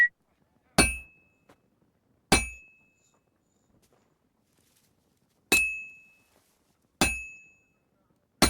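Hammer blows on metal at a smithy anvil in Kingdom Come: Deliverance 2, five loud, ringing clangs spaced irregularly about a second or more apart, each with a bright metallic ring decaying into silence.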